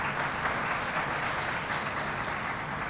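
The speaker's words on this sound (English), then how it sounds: "Let's give him a nice round of applause." Steady, dense applause from an audience at a National Immigrant Heritage Month reception in Chicago, filling the room evenly and continuously from start to finish.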